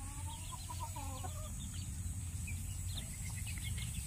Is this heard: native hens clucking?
yes